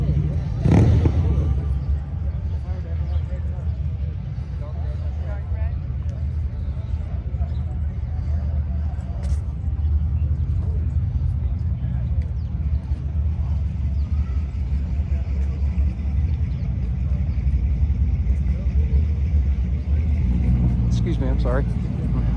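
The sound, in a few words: Ford Mustang cars rumbling past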